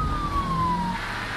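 A police siren from the Need for Speed Heat racing game wails steadily as a single falling tone, with a low car engine rumble underneath, over about a second and a half.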